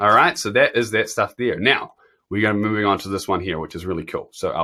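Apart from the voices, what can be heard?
No everyday noises stand out.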